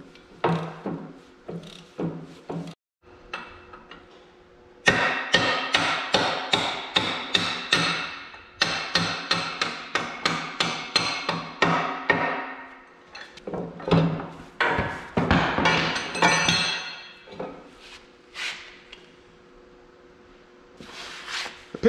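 Hammer blows drive out a front axle pin on an Oliver 1855 tractor under restoration, a long series of sharp metallic strikes in quick rhythmic bursts with short pauses, close and loud.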